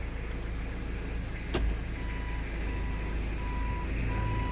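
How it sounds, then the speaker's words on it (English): A large search and rescue truck backs up, its engine rumbling steadily while a repeating reversing beeper sounds in a regular rhythm, with a brief loud thump partway through. "Okay, so we're going to put it in reverse."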